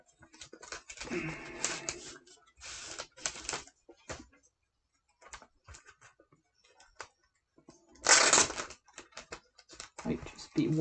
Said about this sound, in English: see if we can keep the envelope noises down.